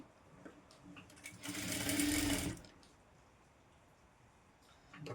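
A sewing machine stitches a designer princess-cut, boat-neck blouse in one steady run of just over a second, loud and close, then stops, leaving a quiet room.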